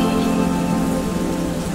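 Steady rain falls in a dense, continuous patter on a surface, even and unbroken throughout with no voices.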